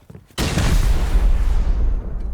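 A rocket fires during a Rust raid, a sudden loud blast that keeps roaring and rumbling for about two seconds before trailing off, with no talking over it.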